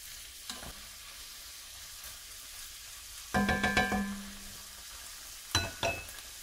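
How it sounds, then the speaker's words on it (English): Swiss chard with liquid and oil being stirred in a pan, giving a steady low sizzle with a few scraping stirs and clinks of a utensil against the pan midway and near the end. "And just get the liquid and oil all mixed in together."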